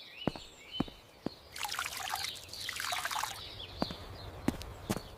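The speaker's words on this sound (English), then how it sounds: "I water the plants" Plants are watered with a short pouring trickle that swells and fades in the middle, framed by scattered drips and small taps before and after.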